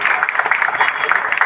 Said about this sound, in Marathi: तर त्यांच्यासाठी एकदा जोरदार टाळ्या होऊन जाऊ द्या